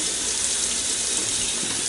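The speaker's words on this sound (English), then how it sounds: "Okay, now I'm going to just take the cold water and just run over it." Cold water runs steadily from a sink tap over a pressure cooker after cooking spareribs, a continuous broad hiss and splash, close and fairly loud with no talking.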